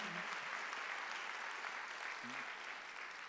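Congregation applauding during a Sunday worship service at a Korean church, a steady dense wash of clapping filling the whole stretch at moderate level, with brief low voice fragments near the start and end.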